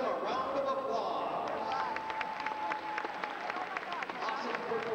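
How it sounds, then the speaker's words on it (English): An audience at a school competition claps and cheers in steady, dense applause that continues throughout, with a voice talking over it. "Ladies and gentlemen, let's give them a round of applause."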